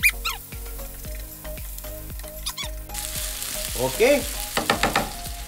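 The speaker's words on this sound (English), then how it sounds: "Now, what I do, I rotate the pan and then I keep on mixing." Beef and vegetable pasta sauce sizzles in a pan while a spoon stirs and the pan is rotated, bright frying crackle with scraping strokes close up, a brief spoken word over it.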